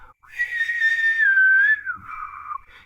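A human voice imitates the shrill whistling of a forge, producing a sustained, wavering high whistle that rises and falls and then trails off, heard alone and close.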